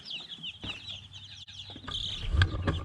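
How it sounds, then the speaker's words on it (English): Young chicks a few days old chirp in a steady stream of high, repeated peeps, fairly close, with a few lower clucks and soft thumps mixed in. "Let me show you what the chicks look like"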